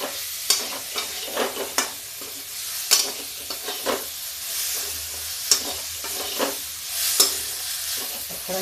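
Chopped tomato tipped into a pan of spices over low gas for a karela (bitter gourd) sabzi, frying with a steady broad sizzle broken by repeated scraping stir strokes and light clinks of the spoon, close and alone.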